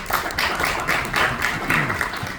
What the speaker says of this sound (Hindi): एक बार चाहूंगी कि जोरदार तालियां